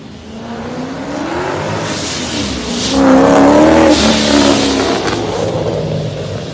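Modified Ford Mustang engine, built toward 1000 horsepower, revving up loud and close: a rough idle climbs into a strong rising wail that peaks midway, then eases into a steady high drone, alone without talking.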